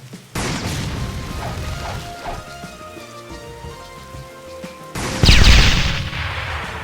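Airstrike attack from the Roblox game Blox Fruits, with booming blasts and crackling debris over a steady loud game backdrop, and a sharp, heavier burst of explosions near the end.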